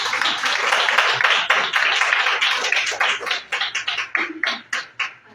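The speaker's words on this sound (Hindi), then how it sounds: "आइए हम पास्टर को हमारे पवित्र आत्मा का ताली बजा करके स्वागत करिए।" A church congregation at a Sunday service claps to welcome the pastor, dense loud applause that thins toward the end into scattered separate claps.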